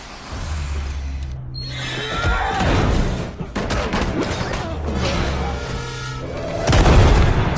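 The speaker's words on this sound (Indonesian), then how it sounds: "Meskipun setelan Batman anti peluru, tapi tubuhnya tak mampu menahan senapan shotgun." Shotgun fire in The Batman film, heard as a few heavy, booming blasts spaced across a noisy action scene full of rumbling, clattering background sound.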